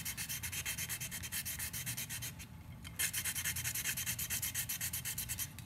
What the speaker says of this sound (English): I'm just going to sand around